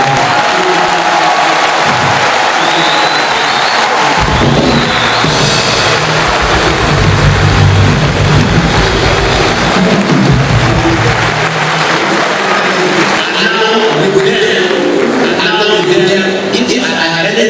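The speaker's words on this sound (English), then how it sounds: "Kindly allow me, ladies and gentlemen, to applaud our one and only vice president" At a university inaugural lecture, an audience gives steady, loud applause for the vice president, with clapping and crowd noise sustained throughout and voices mixed in.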